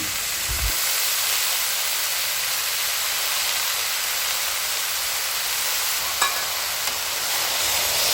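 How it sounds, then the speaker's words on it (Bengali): Vegetables being stirred into fried spices for a spicy puti fish curry, a steady soft sizzle and hiss with a faint scrape or two, close by and without talk. "সব সবজি দিয়ে দেওয়ার পর নেড়ে চেড়ে মশলার সাথে সবজিগুলো ভালোভাবে মিশিয়ে নিচ্ছি"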